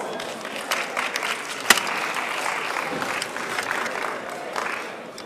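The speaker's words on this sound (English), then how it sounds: "give Mr. Potter a round of applause" An expo audience gives Mr. Potter a round of applause, a steady wash of clapping from a crowd with a sharp single clap near the start, continuing evenly for several seconds.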